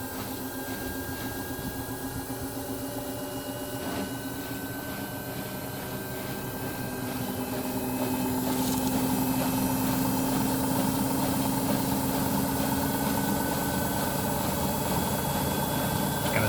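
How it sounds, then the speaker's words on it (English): Samsung Bubble Wash 7.0kg WF1702XEC washing machine in its spin cycle, a steady humming drone with a whine that rises in pitch and grows louder as the drum speeds up. "Okay, so we're on to the spin cycle."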